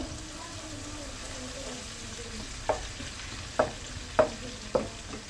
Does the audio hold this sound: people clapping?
no